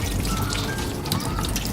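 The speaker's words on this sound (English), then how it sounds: "And then you want to shake it again to get all of that yucky water out." Water shaken and draining out of grated potatoes for hash browns in a home kitchen, a fairly faint, continuous splashing trickle with small dripping bursts.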